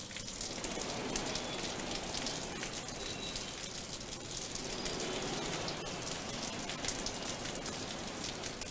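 Heavy rain falls steadily on surfaces in Hyderabad, a dense, unbroken hiss of pouring water that stays loud throughout with no voices.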